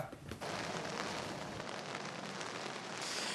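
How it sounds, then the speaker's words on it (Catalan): Heavy rain falls in a dense, constant hiss that carries through the whole stretch, steady and moderately loud with no voices. "està plovent moltíssim ara mateix"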